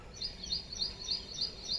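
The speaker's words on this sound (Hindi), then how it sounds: "कोयल की आवाज आ रही है सुबह सुबह।" An Asian koel calls on a morning riverside near forest by the Ganges at Lalganj, Raebareli, Uttar Pradesh, its high, rising phrases repeating steadily and fairly clearly over a soft background hush.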